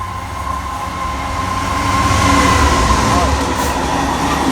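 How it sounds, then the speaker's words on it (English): A Class 66 diesel locomotive rumbles through Loughborough railway station, a loud continuous low roar with clattering wagons that builds as it passes close by, with a voice talking faintly under it. "We got a Class 66 coming through Loughborough station"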